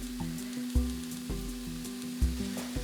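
Vegetables cooking down in grapeseed oil in a cast iron pan give a steady, soft sizzle close by, with a few brief knocks of a utensil against the pan and no talk.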